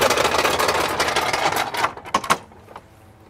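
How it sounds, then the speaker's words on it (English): Power trim on a boat's outboard motor raising it, a loud close whirring buzz that runs steadily for about two seconds, then breaks into a few clicks and clunks before going quiet. "I'm gonna go ahead and trim the motor up"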